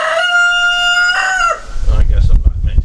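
A rooster crows loudly and close by in a farmyard, one long drawn-out call, followed by a jumble of clucking chickens and other low farm noise.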